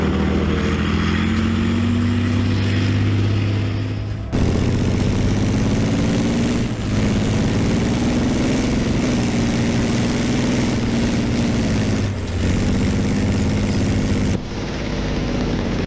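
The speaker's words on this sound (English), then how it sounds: "Meet the German-made Leopard tank now serving in Ukraine's 33rd Separate Mechanized Brigade." Engine of a German-made Leopard tank in service with Ukraine's 33rd Separate Mechanized Brigade, a loud, steady low rumble with a constant droning hum, running continuously close by with brief shifts in tone and no voices.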